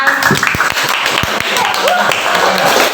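A school class in a civics lesson breaks into scattered clapping, a few distinct hand claps mixed with a loose rustle of applause and chattering voices throughout.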